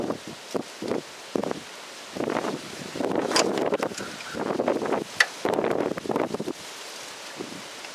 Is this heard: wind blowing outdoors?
yes